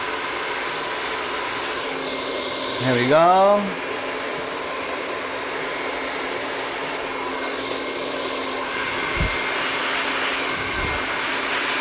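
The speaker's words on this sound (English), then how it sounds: "I just banged her with a blow dryer." A hair dryer blows steadily and loudly throughout, with a brief spoken remark near the start over the whirring.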